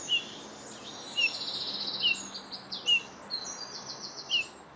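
Outdoors, a Eurasian bullfinch gives soft, high piping calls, repeated about five times at a fairly even pace, faint and somewhat distant, with no voices.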